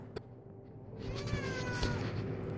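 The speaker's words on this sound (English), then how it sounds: "That's my cat Brazen in the background meowing" A pet cat meows repeatedly in the background, its drawn-out rising and falling cries clear and moderately loud over a steady low room hum.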